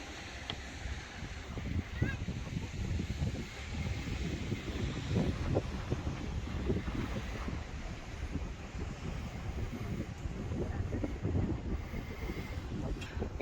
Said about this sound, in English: It's windy. It's windy.